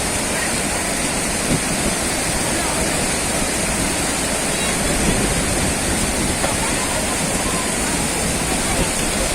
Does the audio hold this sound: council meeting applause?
no